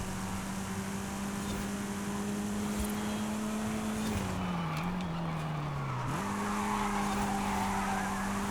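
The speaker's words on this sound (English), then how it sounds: "Oh, that's a good drift." A car drifts through a corner in the racing game Forza Horizon, with a steady engine drone bending in pitch and a sustained tire squeal sliding across the turn, loud and continuous with no talking.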